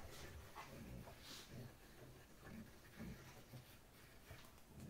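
A dog pants quietly in quick repeated breaths, with faint shuffling from its movement. The sound is close and soft throughout.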